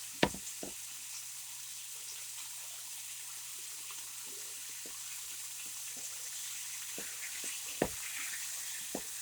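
Beef browning in a pan for homemade stew gives off a steady, soft sizzling hiss, broken by occasional sharp pops and spatters, with no voices.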